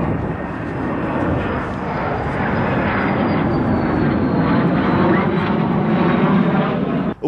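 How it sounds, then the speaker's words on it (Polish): A military fighter jet flies overhead with a steady, loud roar, a broad engine drone that holds level throughout before cutting off at the end. "Taki to odgłos wydaje ten myśliwiec."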